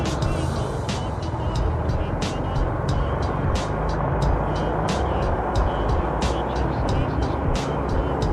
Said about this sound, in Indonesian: ada truk.